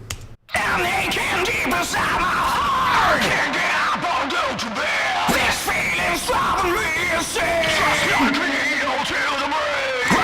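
Heavy metal mix with harsh screamed vocals alternating high and low over dense distorted instrumentation, loud and continuous throughout.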